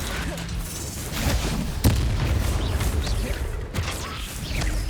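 Confringo fire spells blast with booming, crashing impacts amid busy combat noise in the Hogwarts Legacy video game, a sharp burst standing out midway over a continuous rumbling battle bed.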